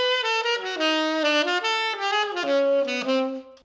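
Solo saxophone plays a flowing bebop lick, built on a 2-5-1 with a tritone substitution: a quick, legato run of close, bright notes.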